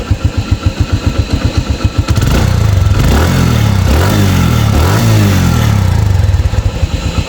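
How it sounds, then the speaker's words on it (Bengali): A TVS Metro Plus 110 cc motorcycle engine cranks with rapid clattering pulses, catches and revs briefly, then settles into a loud, steady idle close by. "বাইকটা কিন্তু স্টার্ট করব দেখেন একদম সোয়াদেলি স্টার্ট"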